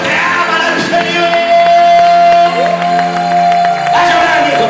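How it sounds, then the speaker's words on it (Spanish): Church congregation at a Wednesday service applauds and shouts out loud and close, a sustained wash of clapping and cries with a sung or held voice running through it. "¡Aplaude fuerte los que aman al Señor!"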